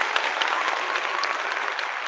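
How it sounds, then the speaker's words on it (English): A round of applause rolls on steadily, many hands clapping in a dense, even wash at moderate loudness with no pauses. "I definitely got to give you a round of applause"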